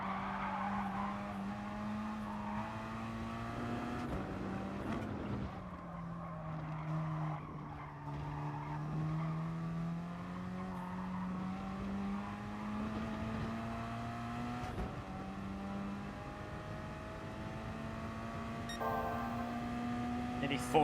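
Gran Turismo Sport race car engine droning steadily through corners and braking zones, pitch rising and falling with gear changes and tyres skidding throughout, loud and continuous for about twenty seconds.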